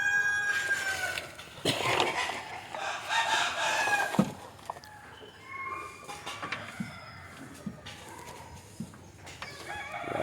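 Native chickens cluck and squawk close by inside a wooden coop, with a rooster crowing among them and scattered rustling.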